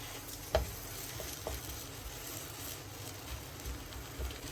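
Bread snacks frying in hot oil for Iftar give a faint, steady sizzle close by, with a few soft clicks of stirring.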